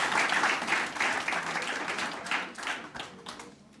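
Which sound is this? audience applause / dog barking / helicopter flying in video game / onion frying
audience applause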